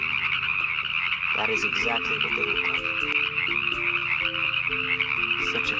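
Chorus tree frogs croak all around in a desert wetland, a dense, continuous trilling chorus with several nearby callers overlapping, while a person talks over it.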